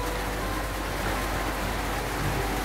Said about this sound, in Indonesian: Enak banget ya hujan.